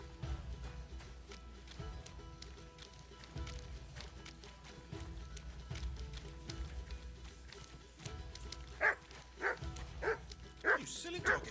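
A dog in the medieval game Kingdom Come: Deliverance II barks several times in quick succession near the end, sharp and fairly close, over a low ambient background.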